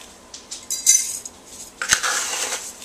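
Scoops of roasted wheat coffee substitute poured into a percolator, a few light rustling pours followed by a sharp metallic clink of the scoop against the pot, close and clear.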